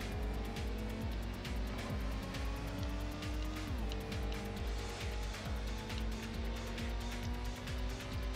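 A Honda NSX slides sideways in the racing game Gran Turismo, its engine droning steadily at close range with pitch shifts and a faint tire squeal throughout.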